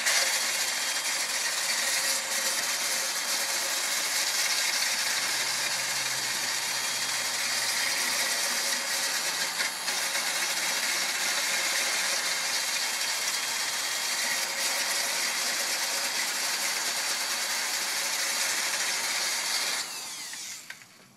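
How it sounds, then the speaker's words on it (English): Power tool steadily chamfering the cylinder bore holes on an engine block, a continuous high grinding whir held at even loudness for about twenty seconds before winding down. "we still want to chamfer these holes"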